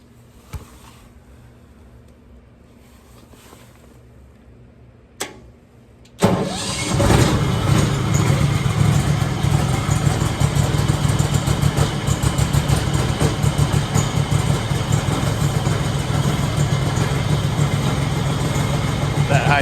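An old Bobcat compact skid steer loader, choke on, cranks briefly and then fires up loud and close, settling into a steady, rattling idle that runs for the remaining time, with some quiet talk before it starts.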